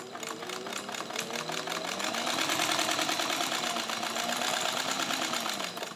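A vintage Kenmore Rotary sewing machine, model 117.552 made by White, with a size 16 jeans needle, stitching steadily: a fast, even mechanical whirr with rapid needle clatter, rising slightly in speed, close and continuous.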